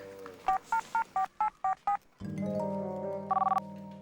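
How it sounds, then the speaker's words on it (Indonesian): A run of seven crisp keypad dialing tones beeps out in steady rhythm as someone phones a doctor, followed by a droning tone and a short final burst of beeps; no one speaks over them. "Del, lu mendingan ini deh, telepon dokternya"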